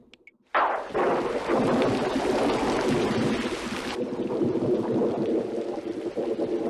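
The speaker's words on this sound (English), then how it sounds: "Lightning flashed, thunder roared, and the sky went dark in the torrential downpour." A thunder and rain sound effect opens with a sudden crack that becomes a heavy, rolling roar over a torrential downpour, easing into a steady rush of rain after a few seconds, with no voices.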